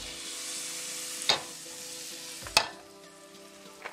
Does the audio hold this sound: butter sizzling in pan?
yes